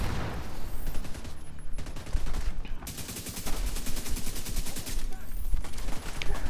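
Rapid automatic AK assault rifle fire in The Division 2 on Xbox One X, sustained bursts of sharp repeated shots broken by brief pauses, with battle noise throughout.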